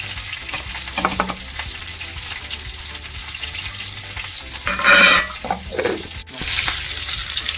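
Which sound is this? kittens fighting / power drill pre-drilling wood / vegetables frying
vegetables frying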